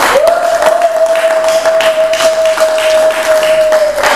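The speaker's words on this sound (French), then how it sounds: "Acclamons pour le Seigneur notre Dieu." Church congregation at an evening French-language service clapping together in a sustained, dense round of applause, with a steady tone and faint voices running beneath the clapping.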